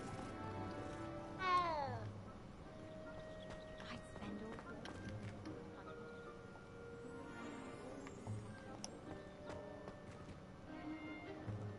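A cat in Hogwarts Legacy gives a short rising meow near the start, over steady game ambience, hoofbeat-like clatter and intermittent background speech.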